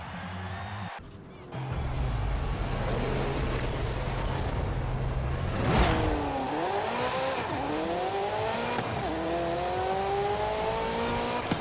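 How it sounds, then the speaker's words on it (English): A 1987 Ferrari F40 in Forza Horizon 5 launching hard from a standstill, the engine roaring up through rising revs with a brief lift and a tire squeal before pulling on through several upshifts, loud and close. "I got on the throttle hard, and then I stepped off it real quick and then got back on it again."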